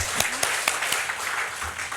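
A church congregation at a Sunday service gives a short, brisk round of applause to encourage its group leaders, with individual claps standing out in the steady clapping.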